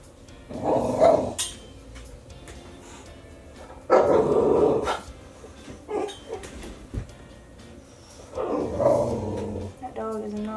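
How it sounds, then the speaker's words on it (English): A dog gives three long, loud bursts of growling barks a few seconds apart, with quieter noises and brief sounds in between. "That dog is not happy."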